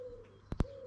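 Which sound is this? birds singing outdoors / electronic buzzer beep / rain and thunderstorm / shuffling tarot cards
birds singing outdoors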